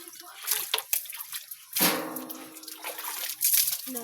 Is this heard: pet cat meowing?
no